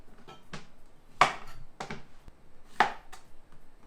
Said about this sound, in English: I chop my veggie first and then I move on to my meat.